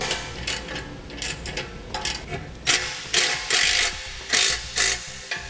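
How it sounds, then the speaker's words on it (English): Ratchet wrench clicks away in quick strokes while 13mm bolts are tightened on a steel Bulldog winch mount for a 2018 Honda, close, with rhythmic bursts getting louder toward the end. "You'll tighten these down using 13mm sockets and wrenches."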